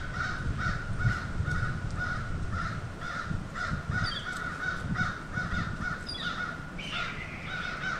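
Several crows caw repeatedly outdoors in a rough, irregular series of harsh calls over steady background noise, some near and some farther off, with no talk.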